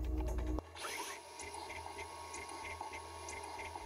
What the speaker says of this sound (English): So we had the spot drill come in.